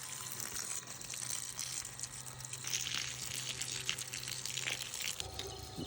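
A small, cheap water pump moves water into a bucket with a steady low hum, and a faint trickle and splash run continuously close by.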